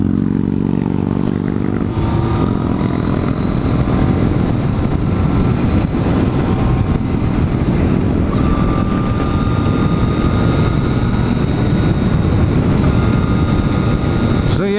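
A 2014 Yamaha FZ-09 motorcycle cruises at about 70 mph near Clearlake, California, its engine droning steadily beneath loud, constant wind rush that dominates the whole ride.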